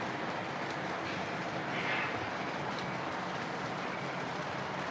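A model train circles a layout with a Horseshoe Curve section, giving a steady, fairly faint rolling rumble and hiss that continues without pause and with no voices.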